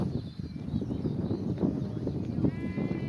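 Faint bleats from a flock of sheep over steady outdoor background noise, with a few short calls scattered across the moment.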